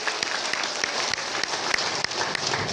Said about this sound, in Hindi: जोरदार ताली बजाइए भरत गुरु जी के लिए